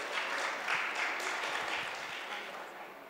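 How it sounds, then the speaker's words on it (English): Audience applause at an outdoor literature festival session, soft and distant, a steady wash of clapping that slowly thins over a few seconds. "Can we give a huge round of applause for them, please?"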